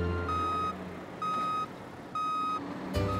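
A big truck loaded with sand gives three evenly spaced reversing beeps over a low engine rumble in a children's cartoon setting.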